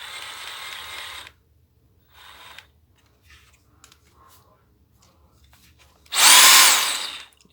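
Bosch GST 18V cordless jigsaw briefly revved, a loud close whine lasting about a second near the end, after a quieter first burst and some handling clicks.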